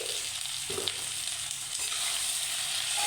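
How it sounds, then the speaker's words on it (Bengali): Spice paste of chili, cumin and coriander fries in a pan for fish curry, a steady close sizzle with a faint stir or two. "একে ভালো করে একটু কষিয়ে নেব"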